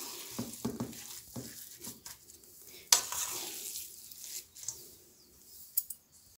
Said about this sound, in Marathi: पूर्ण असं हलवून घ्यायचं आहे